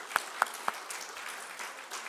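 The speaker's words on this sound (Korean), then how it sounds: "우리 박수로 환영하도록 하겠습니다" A few sharp, separate claps ring out in a Sunday church service in Auckland as children are welcomed, then fade into soft, scattered clapping that stays fairly faint in the room.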